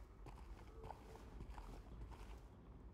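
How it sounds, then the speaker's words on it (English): Footsteps of a character walking through a foggy courtyard in the Silent Hill 2 Remake video game, a steady run of soft, close steps over a low ambient rumble. "It's just my footsteps."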